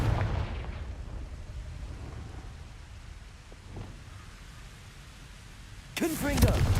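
A Confringo blasting spell explodes in Hogwarts Legacy: a booming burst opens and decays into a low rumbling tail, and after a quieter stretch a second sharp, crackling blast hits near the end.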